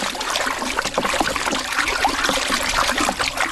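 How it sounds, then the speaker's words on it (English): Manure is stirred into water by hand to form a vortex on a Sonoma vineyard farm, giving a steady, close sloshing and trickling swirl of liquid with no talking. "The next step in our springtime ritual is to mix the manure into water"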